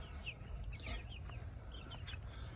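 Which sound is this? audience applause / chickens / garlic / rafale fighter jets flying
chickens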